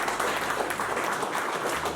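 Steady applause from a crowd at a winter fishing match prize-giving on a farm, dense clapping that continues without a break for the whole stretch, fairly close and full.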